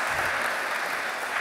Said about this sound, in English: maybe I could ask for a round of applause for Armando and the Raven Pack team